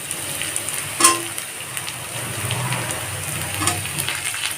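Onions fry in a pan over a high flame, giving a steady close sizzle with a sharp knock or stir near the start and a faint tap later.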